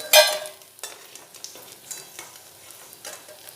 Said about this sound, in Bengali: খুব ভালোভাবে ওই মাথাগুলো ভেজে নেব